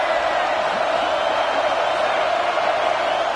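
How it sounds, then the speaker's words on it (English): A large stadium crowd at an American football game roars steadily in a dense, continuous wash of cheering, loud and unbroken throughout. "This crowd bringing the energy and noise early."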